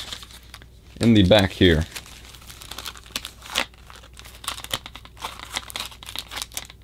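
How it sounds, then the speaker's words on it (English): Sharp crinkling and rustling of recyclable plastic handled inside mostly cardboard packaging, a loud burst early followed by lighter, scattered crackles, while a person briefly speaks. "inside the packaging, we have a piece of recyclable plastic"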